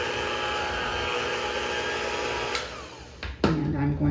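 An electric hand mixer whirs steadily in a kitchen before cutting out near the end. A voice then begins speaking.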